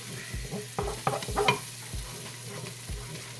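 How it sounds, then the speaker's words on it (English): Garlic sizzles gently in a pan on medium-low heat for celery soup while a utensil stirs it, giving a steady hiss with several soft scraping strokes close by and no talking. "You got to give it a nice good stir. Get that garlic."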